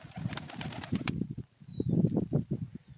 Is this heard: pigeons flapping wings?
yes